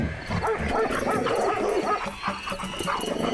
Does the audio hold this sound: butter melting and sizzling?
no